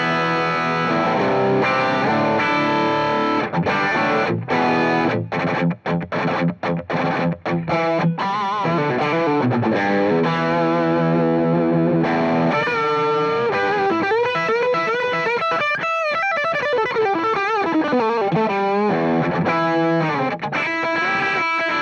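Overdriven electric guitar through a Warm Audio Warmdrive overdrive pedal, a Dumble-style drive with the tone knob turned up, playing a loud, continuous run of chords and single-note lines with a few short stabs and pauses.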